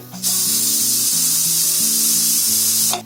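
A pressure cooker of rice pulao vents its steam in a loud, steady hiss that runs for nearly three seconds and then cuts off abruptly, over a low humming drone.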